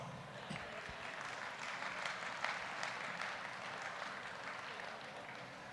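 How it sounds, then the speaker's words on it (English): At a university campaign kickoff celebration, the audience applauds the bell ringers and pep band, a fairly faint, even wash of many hands clapping from a distance that holds steady throughout. "Let's please give them another round of applause"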